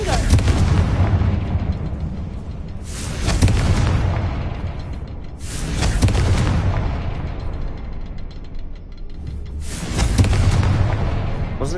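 A Confringo spell in a video game sets off a series of loud, booming explosions, roughly four heavy blasts spaced a few seconds apart, each followed by a rumbling decay.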